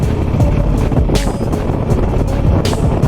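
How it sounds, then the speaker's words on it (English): A Harley-Davidson Nightster motorcycle engine lugs at low revs with uneven, hammer-like thumping pulses, buffeted by wind noise rushing past the microphone while riding in winter. "Engine's starting to sound like a hammer."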